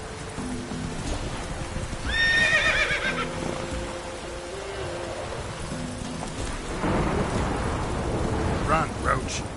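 A horse neighs and whinnies around the middle as the Witcher mount is ridden in the video game, set against steady rain-like ambience and game sounds, with a second burst of noise later.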